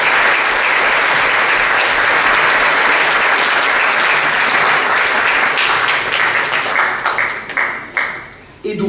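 Loud, sustained applause at a final awards evening, dense clapping from a large audience for several seconds that thins into scattered claps and fades out near the end.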